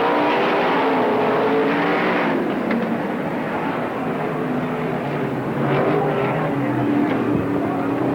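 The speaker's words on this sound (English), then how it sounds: "a gaggle of cars coming down here" Sprint race cars roar around the Tri-City Raceway track in a loud, continuous blur of engine noise, a pack of cars sweeping past close by with rising and falling revs and no voices.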